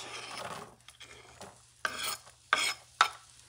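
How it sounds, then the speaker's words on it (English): Chopped onions hitting hot oil in a pan for a Spanish octopus rice sofrito, with stirring scrapes and a few sharp bursts of sizzling spaced about half a second apart, close and fairly quiet. "I'm going to add the onions"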